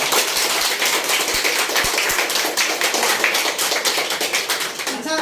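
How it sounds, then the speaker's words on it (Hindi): An audience claps for girls at a Savitribai Phule birth anniversary celebration, with dense, continuous applause and a few sharper close claps standing out. "इनके लिए जोरदार ताली पहले होना चाहिए"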